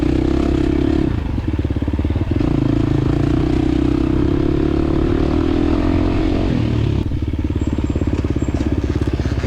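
A 2023 KTM 350 XC-F dirt bike engine in a scramble race clatters loudly and steadily up close, its revs dipping briefly before picking back up, with no talk.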